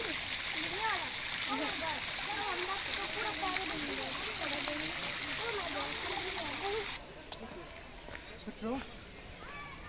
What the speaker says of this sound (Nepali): यहाँ चाहिँ सानो नानी बाबुहरू पानीमा खेलिरहने केटाकेटीहरू।